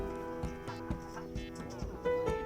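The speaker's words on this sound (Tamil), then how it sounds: "பக்கத்துலேயே நாட்டுக்கோழியும் கீழே இருக்குது." Native chickens cluck repeatedly in a date garden in Saudi Arabia, a string of short nearby clucks and calls at an uneven rhythm, ending in a louder, drawn-out call.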